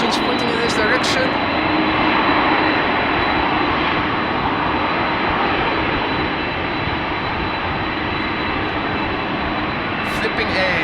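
Jet engines of an airliner at a rainy Amsterdam Schiphol Airport roar loud and close in a dense, unbroken wash of noise, with a few sharp clicks at the start and end.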